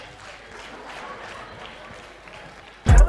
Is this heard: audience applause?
yes